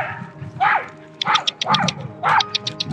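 Several dogs bark and yip in short bursts at an off-leash dog park in Canada, fairly close, with gaps between volleys and some whimpering.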